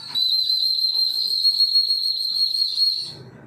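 A pigeon-training whistle gives one long, shrill, steady blast lasting about three seconds, close and loud, then fades out.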